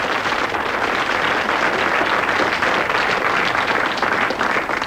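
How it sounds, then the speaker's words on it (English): An audience claps in a sustained round of applause, a dense, steady wash of hands filling the room from start to finish. "get another round of applause"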